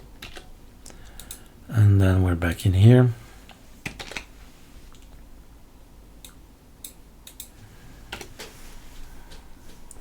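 Sparse, light clicks of typing on a computer keyboard during work on a Linux system, quiet and close, with a brief spoken phrase partway through.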